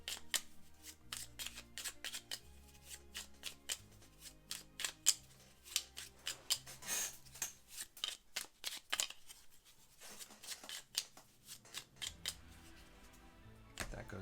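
A deck of cards for the Lost Ruins of Arnak board game gets shuffled up close, with a string of sharp, quick riffling and snapping bursts in uneven clusters over a faint background hum.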